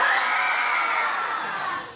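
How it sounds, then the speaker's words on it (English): A live audience at a horror make-up show screams together on cue, a loud, sustained, high-pitched group shriek that holds for about two seconds before tapering off. "everybody scream. 1, 2, 3."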